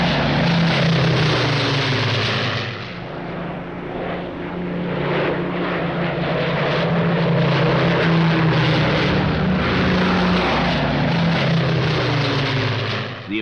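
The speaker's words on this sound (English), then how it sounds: "The old Lancaster bomber still stirs memories." An Avro Lancaster bomber flies past at a Silver Jubilee air pageant, its piston engines giving a loud, steady droning roar that shifts slightly in pitch as it passes, with no talk over it.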